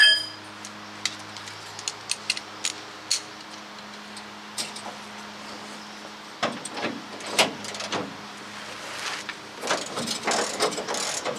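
A ratchet wrench works on the truck bed bolts of a 2012 Ram 1500. It makes quick, close clicking runs in short bursts, with clanks and metallic handling noises between them.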